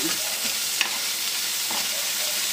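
Broccoli and mushrooms sizzle and hiss steadily in a pan as ginisang broccoli fries toward golden brown, with occasional stirring scrapes and spatters, loud and close without talk.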